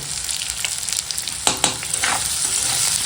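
Hog plum pieces frying in hot oil with dry red chilli, mustard tempering, salt and turmeric, a continuous hiss and sizzle with a couple of sharp stirring scrapes partway through.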